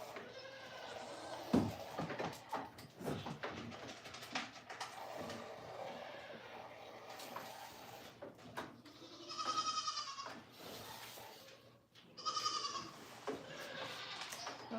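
A goat on a farm is being milked amid quiet shuffling and knocks. It gives two clear bleats partway through, one drawn out and a later shorter one.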